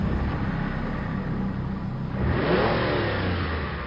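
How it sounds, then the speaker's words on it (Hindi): A car speeds along a road through heavy rain at night under strong wind, its engine rumbling and surging louder near the end over a steady wash of noise, with no voices. "हेडलाइट की रोशनी और तेज बारिश को चीरते हुए तेजी से आगे बढ़ती हुई हमारी गाड़ी।"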